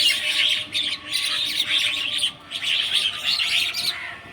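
Crows caw and call repeatedly in a busy, overlapping chorus, loud and close, with brief pauses between bursts.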